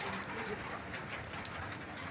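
A passing rain shower over a hill village at Gagan Bawada, a steady, soft patter and hiss of rain falling on surfaces, moderately faint and continuous, with no talking.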